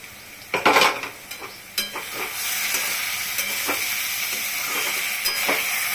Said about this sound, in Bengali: হয়ে গেছে, এখন আমি ঢাকনাটা তুলব।